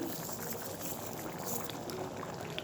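Chana dal and soybean curry bubbles in a pot over medium heat, a soft, steady boiling hiss with faint pops, quiet and close with no voices.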